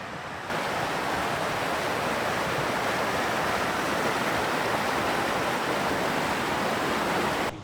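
A river flows steadily at a scenic mountain spot, a dense, even wash of rushing water that holds constant throughout after a brief quieter start, with no voices.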